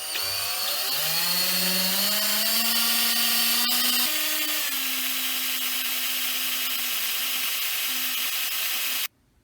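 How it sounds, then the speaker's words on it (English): A power drill spins up and bores steadily into wood for a homemade double-headed spear, a loud continuous whine rising in pitch, then holding until it cuts off sharply near the end. "when you do drill the holes, you get a drill bit that closely resembles the shape of the peg"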